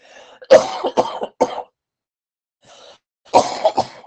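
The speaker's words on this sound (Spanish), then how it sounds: "Con esta tos que tengo ya" A person coughs in a rough burst of several hacks, pauses in silence, then coughs again, close and loud.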